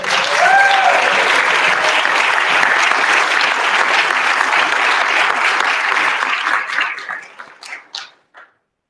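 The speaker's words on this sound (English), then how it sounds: "So a round of applause for the new staff council." A large audience claps steadily at a university all-staff meeting to welcome a new staff council, the applause loud and dense before thinning into a few scattered claps that stop near the end.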